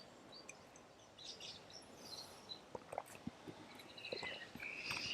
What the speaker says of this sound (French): On va être accompagné par le vent et les oiseaux